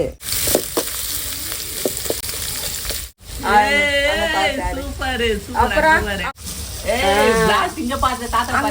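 Mustard seeds crackle and sizzle in hot oil in a home kitchen, a steady spitting fry running throughout while someone talks over it in bursts.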